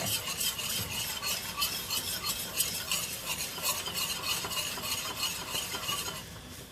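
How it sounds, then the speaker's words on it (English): Heavy whipping cream whisked briskly in a pan on a grill, a fast rhythmic metal scraping over a soft sizzle, close and loud throughout. "As you whisk"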